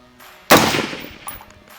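A single sharp gunshot from a UAR-15 rifle fired at a target on a shooting range, loud and close, with a brief ringing decay afterward.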